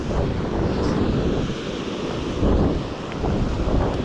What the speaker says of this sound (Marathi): पण वारा आज खूप आहे